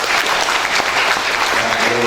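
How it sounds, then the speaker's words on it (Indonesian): Audience at a law school graduation ceremony in Garut claps steadily in a dense, even burst of applause lasting a couple of seconds, with no voices standing out. "Tepuk tangan untuk beliau."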